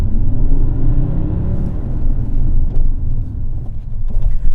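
Alfa Romeo 159 diesel JTD engine running under load, a loud, deep, continuous rumble with a muscular tone and steady road and wind noise, heard from inside the car.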